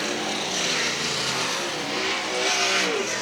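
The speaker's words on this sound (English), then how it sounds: "And Callum, these cars just firing up here right now" Several 360 sprintcars fire up together at Collie Speedway during a state title meeting, a dense, loud broadband engine roar that holds steady for a few seconds with slight swells, no talk over it.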